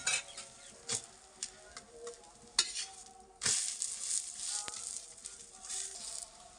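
Cauliflower-stuffed breakfast flatbreads frying on a pan, giving a soft, faint sizzle broken by sharp taps and scrapes of a utensil that become a steadier hiss in the second half.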